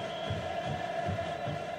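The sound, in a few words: Cruzeiro supporters' crowd in football stadium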